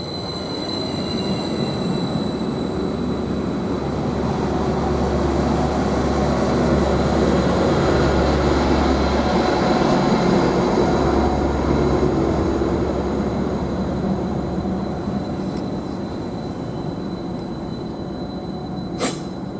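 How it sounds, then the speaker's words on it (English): A Greater Anglia train on the Felixstowe to Ipswich line departs Trimley station, its steady loud engine and wheel rumble filling the whole stretch with a low continuous roar and a faint high whine above it. "this Greater Anglia train with the 1431 service from Felixstowe towards Ipswich is just now departing"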